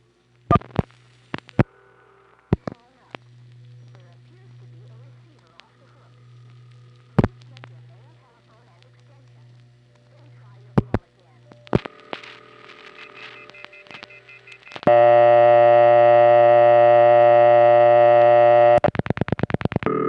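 A telephone line from a New York central office clicks and pops sparsely over a faint low hum, then a loud, harmonically rich test line tone bursts in and holds steady, breaking into rapid pulses near the end.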